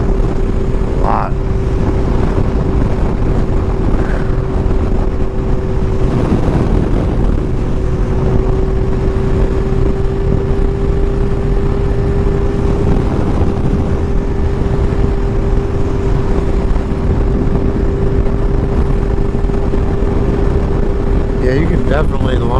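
A 2016 Kawasaki Ninja 1000 motorcycle runs steadily under way with a constant engine drone and wind rush, loud and unbroken for over twenty seconds, while a rider talks over it.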